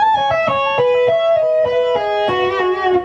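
Electric guitar with distortion, tapped on the third string and slid up, then pulled off into a descending run of sustained notes. The line is played alone, loud and fluid, with no talking.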